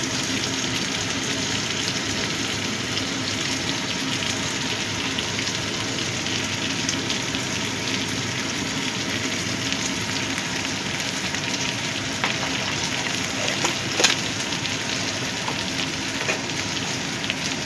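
Ginger and cumin paste frying in a pan for mutton mince with green jackfruit, a steady dense sizzle and crackle running throughout at close range, with no talking.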